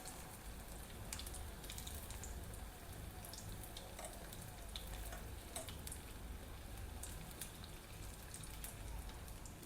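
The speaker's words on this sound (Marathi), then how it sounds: "तेल पण तापलेले, तेलात सोडून घेऊ। बारीक गॅसवर छान तळून घ्यायचे आहे।" Corn cheese balls deep-frying in hot oil over a low flame, a continuous soft crackling bubble like light rain, steady and even with no voices.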